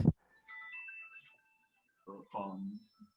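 A phone ringtone plays a short electronic melody of thin, tonal beeps, fairly quiet and heard across a gathering in a meeting room, with a few voices in between.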